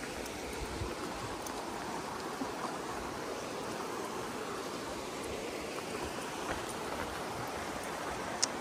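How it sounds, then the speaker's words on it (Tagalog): Little Elbow Falls in Kananaskis, a steady broadband rush of falling water heard at a moderate distance, even and unbroken throughout with no voices. "Dito tayo sa Little Elbow Falls sa Kananaskis"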